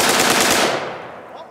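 Full-auto AK-47 fire blasts at a lawn mower outdoors, a dense, loud rapid burst of shots that stops abruptly and leaves a brief fading echo.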